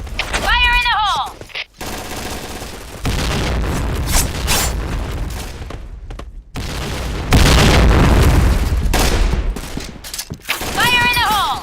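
Grenade blasts and heavy gunfire fill a firefight in the tactical shooter Insurgency Sandstorm, with loud booms and rapid bursts of shots rolling on continuously and voiced callouts heard briefly at the start and end.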